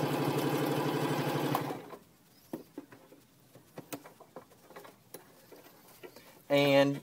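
A Singer 1408 Promise sewing machine stitches loudly and steadily through 3 up to 9 layers of fabric, then goes quiet amid faint taps and handling noises before a short final burst of stitching.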